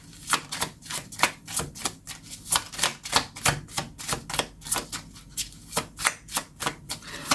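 A deck of tarot cards is shuffled by hand in a quick, steady rhythm of crisp riffling bursts, close and clear with no speech over it.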